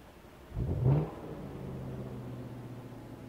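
A 2014 Audi RS5 Cabriolet engine cranks and fires with a loud rising revving burst, then settles into a steady, rumbling idle close by.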